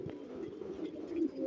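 A pigeon of a Sialkoti breed coos softly and close, a few low rolling notes in a quiet setting.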